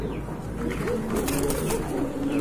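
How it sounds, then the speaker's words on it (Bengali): Pigeons coo softly in a loft crowded with birds, including a pair of black-and-white Budapest high flyers, the low throaty calls repeating under a steady background hum. "এখানে কিন্তু এক জোড়া হাই ফ্লায়ার বুদাপেস্ট রয়েছে"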